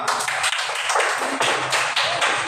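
Dense, loud applause from a classroom of students for discussion group 5, with rapid overlapping hand claps that sustain throughout with a few brief dips.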